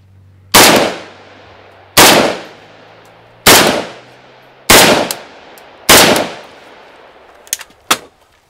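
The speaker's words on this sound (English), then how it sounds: "I'm just going to deliver 5 shots and we'll see what it looks like down the other end." Five rapid pistol shots fired one after another on a range, each a sharp, loud crack with a short decaying tail, evenly spaced about a second and a half apart, followed by a couple of faint metallic clinks.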